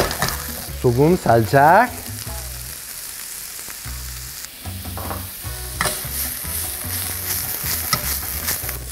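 Food stir-fries in olive oil in a hot pan, a sizzle carrying stirring clatter and scrapes. A voice speaks briefly near the start, then frying continues loud with bursts of crackle.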